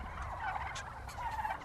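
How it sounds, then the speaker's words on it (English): Kelly Bronze turkeys in a pen gobble in rapid, warbling bursts, two clear calls a second apart over a busy background of other birds, moderately close. "So here we are at a pen full of Kelly bronze turkeys."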